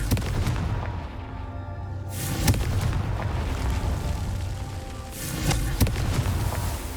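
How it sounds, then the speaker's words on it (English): Explosive booming blasts from a Confringo fire spell in the Hogwarts Legacy video game, loud and dense, with sharper bursts standing out over a continuous rumbling roar. "Confringo!"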